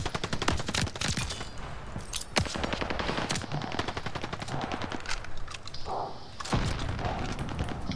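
Rapid automatic gunfire bursts in Call of Duty: Vanguard on the Champion Hill map, sharp dense volleys with thuds running nearly throughout, loud and close with no talking.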